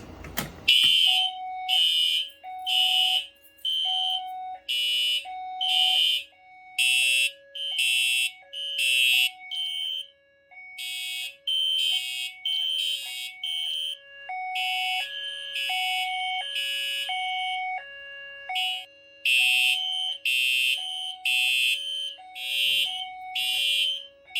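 A Fire-Lite MS-9600UDLS fire alarm system sounds after a Simplex 4099-9001 pull station is activated, with loud, repeating electronic horn blasts and a steady alternating chime-tone pattern cycling for about twenty seconds, with brief gaps between bursts.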